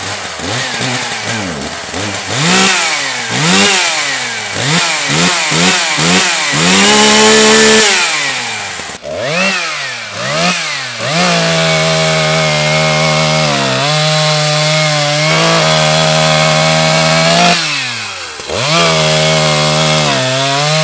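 Wankel-engine chainsaw cutting wood, revving in repeated sharp rising and falling bursts, then settling into a sustained high-pitched whine under load with short dips, loud and close throughout.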